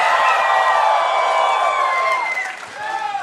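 A live crowd at a Boston developer panel cheers and yells, a loud sustained wash of voices and whoops that dips briefly near the end before swelling again.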